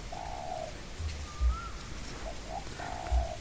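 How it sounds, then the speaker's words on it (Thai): A zebra dove coos outdoors in a soft, repeated pattern, with low rumbling hum and a faint whistle between the calls. "มีแต่นกเขาชวาครับ"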